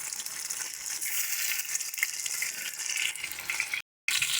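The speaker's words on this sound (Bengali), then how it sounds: "বড়া কিন্তু আমাদের দুটো থেকে ভালো মতন উল্টে পাল্টে লাল লাল করে ভাজা হয়ে গেছে" Battered Bombay duck (lote) fish fritters deep-frying in hot oil, a loud, dense, steady sizzle and crackle close by, briefly cut off near the end before resuming.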